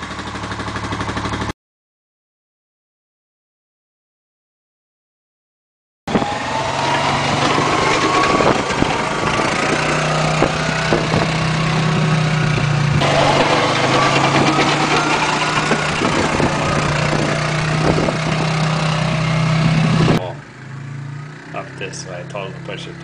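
A small engine idling while warming up outdoors on a cold, snowy morning of about 20 degrees, a loud, steady rattling putter close by after a short silence, easing down near the end.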